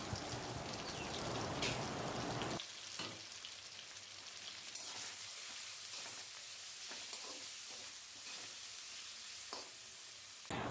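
Chilli powder, salt and turmeric masala frying in a pan, a strong sizzle that suddenly quiets to a softer crackling hiss with intermittent spatters and stirring scrapes.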